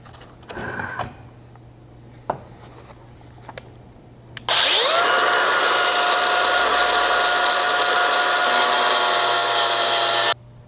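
A 4.5-inch angle grinder with a cutting disc cutting a step into metal: after a few light taps and clicks, the motor spins up into a loud, harsh, continuous high screech that runs steadily for about six seconds before cutting off.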